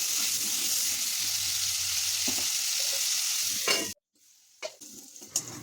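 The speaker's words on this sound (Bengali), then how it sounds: "স্বাদ মতো লবণ দিয়ে আলুগুলোকে ভালো করে লাল লাল করে ভেজে নেব।" Diced, salted potatoes fry in oil in a kadai with a loud, steady sizzle that suddenly cuts off near the end, followed by a few scattered clinks and stirring sounds.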